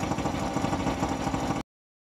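A pitch-shifted oil pump serves as the running sound of an RC tank, giving a continuous idling engine-like hum with quick regular pulsing, steady and alone for about a second and a half, then an abrupt stop.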